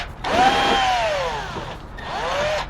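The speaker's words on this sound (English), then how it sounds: "Drill those." Power drill boring pilot holes with a 3/16 drill bit into a panel for a Rockford Fosgate Jeep JL kit, two loud whining bursts close up that rise and then wind down.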